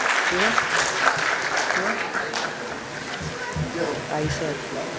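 An audience at a school annual function gives a round of applause, loud and continuous at first and then easing slightly, with voices audible beneath the clapping.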